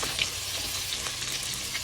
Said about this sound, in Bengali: একই তেলে মাছ ভাজার তেলে আমি দিয়ে দিব পেঁয়াজ আর কাঁচামরিচ পরিমাণ মতো